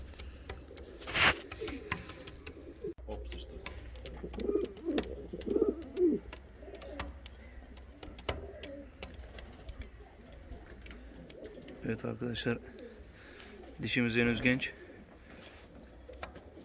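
Young fancy pigeons of an English breed, newly imported and paired, coo in soft repeated bursts near a loft, with someone talking over and between the calls.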